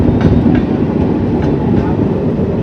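The Howrah Radhikapur Kulik Express pulls out of Barsoi with a loud, close, continuous rumble and faint rhythmic clickety-clack of wheels over rail joints.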